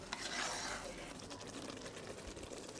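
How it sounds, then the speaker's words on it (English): Parsley is stirred into a butternut squash and chickpea tagine with soft scraping and rubbing strokes in the pot, quiet and close, with no one speaking. "Going to give it a quick stir."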